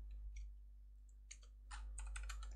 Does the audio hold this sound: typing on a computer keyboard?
yes